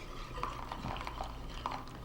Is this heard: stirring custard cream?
yes